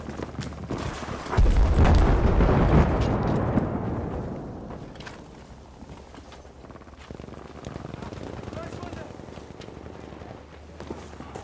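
A grenade blast in the Battlefield V video game bursts loud and close, then its heavy rumble slowly fades, with footsteps and rustling action continuing under it.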